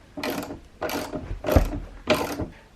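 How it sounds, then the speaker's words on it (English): A socket set ratchet clicks through four steady strokes as it drives a screw into a wall-mounted workbench, each pass a close, crisp run of pawl clicks separated by short pauses. "Now I can come back with the socket set and really get it in there."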